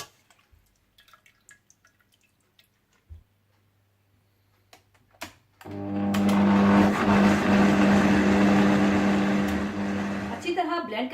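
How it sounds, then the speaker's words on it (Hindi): A kitchen blender kicks on partway through and runs loud and steady, grinding cooked tomatoes for homemade ketchup. A few faint clicks and taps come before it. "थोड़ा ठंडा करने के बाद आप इसे ब्लेंडर में डालकर अच्छी तरह से ब्लेंड कर लीजिएगा।"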